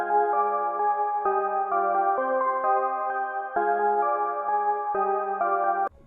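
Chiming synth bells from a dark trap melody with the lows and highs trimmed by EQ, giving a thinner, muffled, slightly underwater tone as the repeating pattern plays alone and cuts off abruptly at the end.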